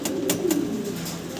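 Fancy pigeons, Bukhara among them, coo in a low, rolling murmur at close range, with soft cooing continuing steadily through the moment alongside faint scuffs and flutters.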